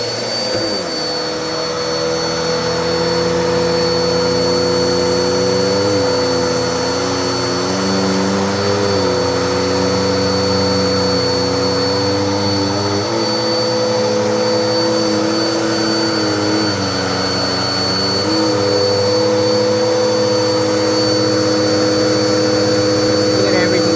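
A Bissell Cleanview 2492 upright vacuum cleaner runs steadily and loudly throughout, its motor drone holding a constant whine with slight pitch wobbles as it is pushed across the floor, alone without talk.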